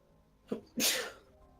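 A single close sneeze, a short inhaled catch followed by a loud explosive burst that fades within half a second, heard alone.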